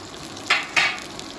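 Salmon fillet frying in a hot pan gives two short, bright sizzling bursts a moment apart over a low, steady background hiss.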